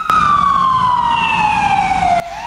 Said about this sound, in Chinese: 消防车鸣笛赶赴现场